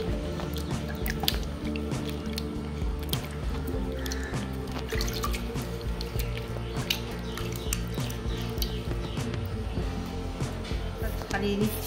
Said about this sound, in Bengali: শশাগুলো এখানে ধুয়ে নিচ্ছি জলে।